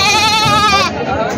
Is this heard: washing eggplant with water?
no